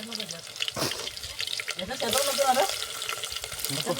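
Onions go into a pan for an outdoor riverside chicken party, frying with an uneven crackle and scraping clatter, mixed with splashy water noises while people talk nearby.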